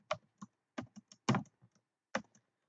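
Keys on a computer keyboard tapped in short, irregular bursts of clicks with small gaps between them, close and clear, no voices present.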